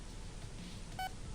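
A breaker box in the Roblox game Doors gives one short, bright electronic beep, clean and brief, over a steady low background hum.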